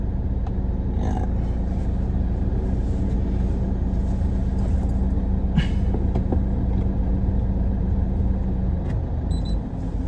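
Idling engine of a Mitsubishi Montero with a faulty electronic parking brake, a steady low rumble close by, with a few faint clicks and a short beep near the end.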